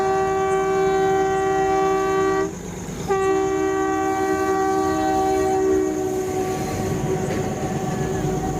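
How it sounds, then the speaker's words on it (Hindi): A train at Goram Ghat in Rajasthan sounds a loud, sustained multi-tone horn close by, with a brief break partway through, then gives way to rumbling wheels and rail noise. "पर ट्रेन की स्पीड को देख कर तो बिल्कुल भी नहीं लग रहा है कि ट्रेन रुकने वाली है"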